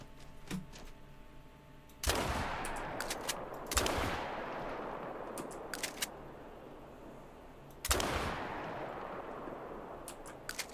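Rifle shots in a hunting video game set in Mexico, fired at an animal: three loud, sharp reports spaced a few seconds apart, each with a long rolling echo decaying behind it, over quiet ambient noise with faint clicks.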